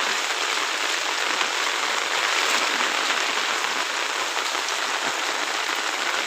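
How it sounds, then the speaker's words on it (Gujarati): Heavy rain pours steadily outdoors near a home in Gujarat, a dense, even roar of drops drumming on surfaces, loud and unbroken with no voices. "વરસાદ પડે છે"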